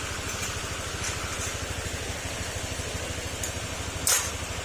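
A Honda Click 125 scooter engine idles steadily after an overhaul, a close, even low-pitched putter pulsing throughout, with a brief sharper click near the end.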